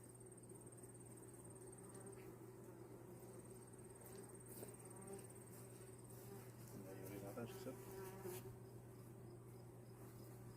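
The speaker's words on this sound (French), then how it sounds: "il y a des milliers d'abeilles à chaque année dans cet arbre-là" A faint, steady buzzing hum of thousands of honeybees swarming in a tree, with soft rustling and brief indistinct sounds layered over it.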